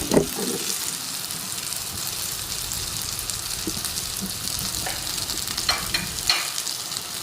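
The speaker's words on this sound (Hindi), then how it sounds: "थोड़ी सी आंच आपने कम करके तो फिर उनको फ्राई करना" Frozen shami kebabs fry over low heat in a pan, giving a steady soft sizzle with a few light scrapes and clicks, close and continuous with no talking.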